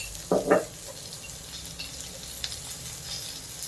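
Spices frying in a pan for masala poha, a soft continuous sizzle with a couple of brief stirring scrapes near the start, close and fairly quiet.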